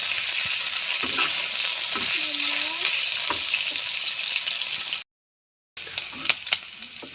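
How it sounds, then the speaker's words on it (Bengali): Meat fries in oil in a pan, giving a loud, continuous sizzle with scattered pops and stirring scrapes. The sound drops out briefly near the end before the crackling resumes. "মাংসটা আমি একটু ভেজে নিচ্ছি।"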